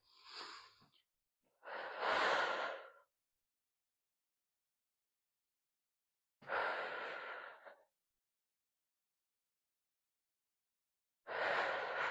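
Deep breaths during a breathe-and-brace core and rib stability exercise, heard as a few long, strong, airy inhales and exhales spaced several seconds apart with silence between, close up and with no talk.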